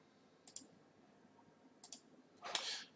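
A computer mouse clicks quietly up close: two quick double clicks spaced about a second apart, followed by a slightly louder, longer click-rustle at the end, over near silence.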